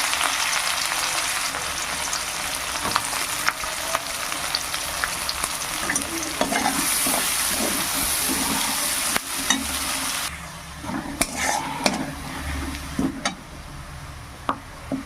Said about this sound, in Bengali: তেলে দিয়ে দেবো পেঁয়াজ কুচি ঝালের জন্য মরিচ